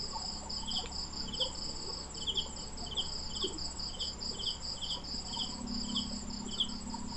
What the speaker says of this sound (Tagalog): Kuliglig ba, no?